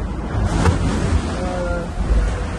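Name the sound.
ocean waves splashing over the deck of a racing sailboat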